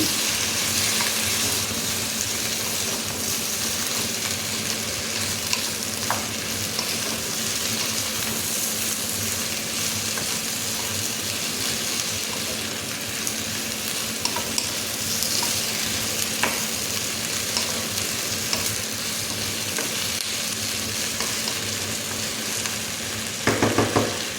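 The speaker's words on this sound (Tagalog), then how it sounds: "Tapos lagay na natin yung talong." Eggplant sizzles steadily in a hot pan while being stirred, a continuous close frying hiss with occasional scraping clicks of the utensil.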